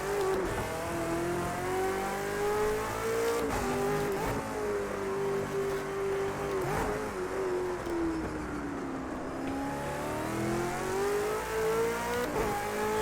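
A V8 Supercar in Project Cars 2 laps Bathurst, its engine droning loud and steady throughout, pitch rising and falling with shifts and corners, with a brief tyre squeal amid the continuous racing roar.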